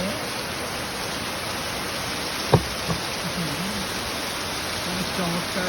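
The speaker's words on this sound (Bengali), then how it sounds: "অনেক চমৎকার বৃষ্টি।" Rain falls steadily on leaves, a dense even hiss throughout with a faint brief knock partway through and no clear voices.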